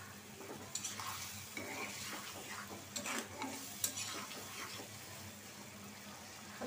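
Spice masala being stirred and fried in a pan, a soft continuous sizzle with scraping stirring strokes and occasional louder clinks, heard close but fairly quiet, with no voices.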